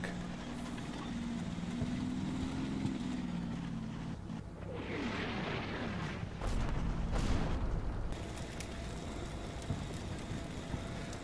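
Armored tank moving in Combat Mission Shock Force 2: a low engine drone with a rising whine, followed by several loud thumps and bangs around the midpoint, steady and close throughout.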